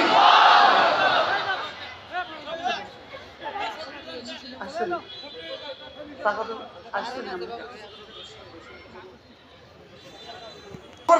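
A large crowd at an Islamic waz gathering roars back a loud chant in response to a takbir call, a loud burst at the start followed by ragged shouting, chatter and scattered voices.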